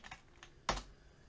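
Typing on a computer keyboard, a few soft clicks followed by one sharper, louder keystroke, close and with no voices.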